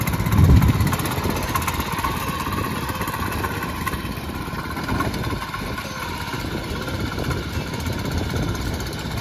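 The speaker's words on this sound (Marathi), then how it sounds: "त्याच्यात बघा एकदा ट्रॅक्टर फिरवता." Tractor working through a flooded rice paddy in Konkan, churning fertilizer into the mud before transplanting; a steady, continuous engine drone runs throughout at moderate distance, with a louder low rumble at the start.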